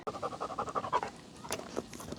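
A Malinois and Lab mix dog at the beach pants rapidly in a quick, even rhythm for about a second, then the breathing slows and softens into a few fainter, looser breaths.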